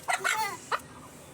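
A live chicken bought at market clucks in a few short, close bursts with no talk.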